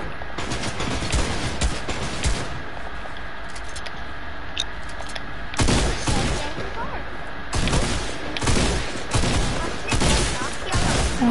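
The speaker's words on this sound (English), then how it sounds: "Could you please shoot for 2 seconds?" Video game gunfire comes in bursts of rapid shots, with a long volley near the middle and more bursts toward the end, loud and close over steady game background noise.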